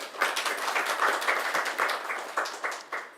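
An audience at a morning Mangal Aarti lecture in Vrindavan claps in a steady rhythmic beat, about three claps a second and fairly close, with no voices over it.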